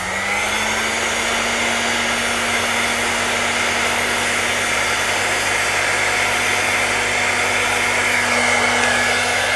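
Gas torch flame heating the key of a glassware stopcock, a loud, steady roaring hiss that holds unbroken from start to finish.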